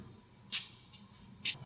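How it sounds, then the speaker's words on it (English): Two short sprays of Mont Blanc Explorer perfume from an atomizer bottle, each a brief bright hiss about a second apart, close to the mic over quiet room tone. "you mind if I hit one more spray of the Explorer?"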